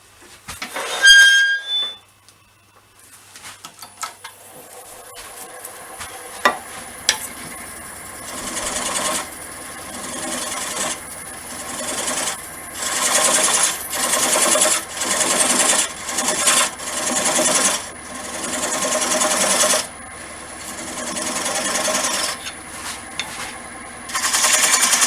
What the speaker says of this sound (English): I'll continue hollowing out the bowl